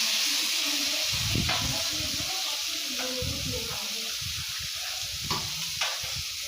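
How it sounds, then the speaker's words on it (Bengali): Tamarind water meets fried rui fish in a hot pan, producing a steady sizzling hiss with low bubbling and several soft clinks and knocks, close by, with no talking. "রুলি মাছের টক বসিয়ে দিচ্ছি, ভেজে নিয়েছি। এবার তেঁতুল জল দিয়ে দিলাম।"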